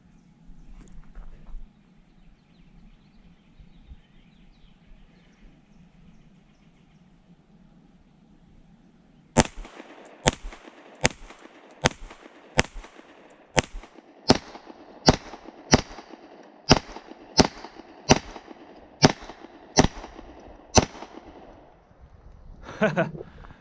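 Kimber KDS9C compact 9mm pistol fired with Winchester Silver Tip rounds outdoors, about fifteen sharp loud shots in a steady rhythm roughly every second, after a quiet stretch with faint background murmur.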